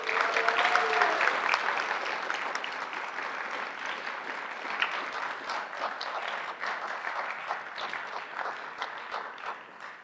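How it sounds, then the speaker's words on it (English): An audience at a school district awards event gives its honorees another round of applause. The clapping starts loud with a few murmured voices, then gradually thins and softens over ten seconds. "Let's give all of our honorees another round of applause."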